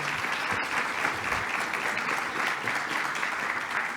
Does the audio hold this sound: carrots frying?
no